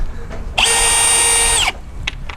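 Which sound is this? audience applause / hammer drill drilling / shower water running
hammer drill drilling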